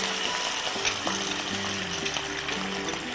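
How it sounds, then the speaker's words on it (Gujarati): Rice tipped into a hot pan with fenugreek seeds sizzles steadily, a dense close frying hiss with faint stirring scrapes and clinks, no talk over it. "ચોખા નાખી દઈએ."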